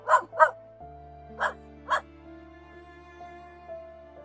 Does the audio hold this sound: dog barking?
yes